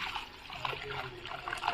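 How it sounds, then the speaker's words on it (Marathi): Water trickles and splashes into a large pot holding cashew nuts in a soft, continuous stream, with a faint voice underneath. "काजू घेते आणि त्याच्यामध्ये आहे ना पाणी टाकते"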